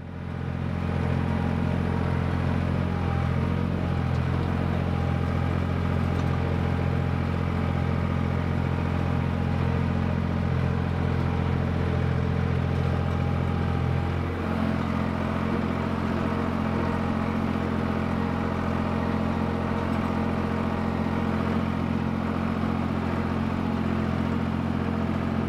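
A tractor rakes hay in a Wyoming mountain hayfield, its engine droning steadily and loudly throughout with a constant low hum, the pitch shifting slightly partway through as the load changes.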